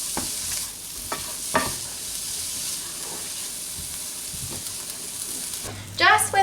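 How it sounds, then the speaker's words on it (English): Onions fry in a pan over medium-high heat, a constant bright hiss of sizzling with a few knocks and scrapes from stirring early on and a louder clatter at the very end. "On a medium-high heat, we're just going to pop the onions in first"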